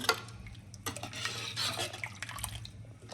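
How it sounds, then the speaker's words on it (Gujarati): Spoon stirring a tempering of curry leaves, coriander and spices in a pan for Gujarati dal dhokli, giving a few soft scraping and clinking strokes with faint liquid movement over a low steady hum. "હવે આપણે આને સરસ હલાવી લઈશું."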